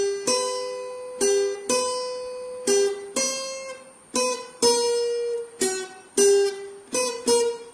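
Single plucked guitar notes trace a theme in a steady melodic line, each attack sharp and ringing out before the next, close and clear with no voice over it.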